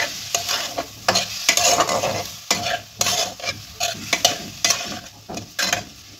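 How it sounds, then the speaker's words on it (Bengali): Kohlrabi curry masala is stir-fried in a pan, heard as a loud, close sizzle cut by repeated rhythmic scraping strokes of a spatula every half second or so, with no speech. "এইভাবে ভালোভাবে কষে নেবো নেড়ে চেড়ে"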